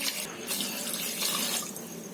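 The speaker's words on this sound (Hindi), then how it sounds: "2 गिलास के करीब डालेंगे हम इसमें पानी।" Water poured steadily into a pot for saffron yakhni pulao, a continuous soft rushing splash with slight fluctuations, fairly quiet and close, without speech.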